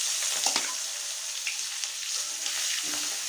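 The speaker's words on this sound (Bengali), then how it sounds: "এখন আমি মাছগুলো ভেজে নেব।" Tengra fish frying in hot oil in a wok, a steady, loud broadband sizzle with a few sharper crackles and spatters scattered throughout and no voices.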